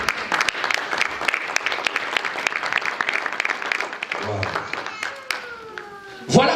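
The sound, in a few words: church congregation applauding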